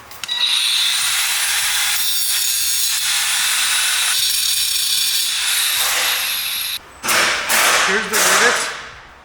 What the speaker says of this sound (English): we're just grinding this side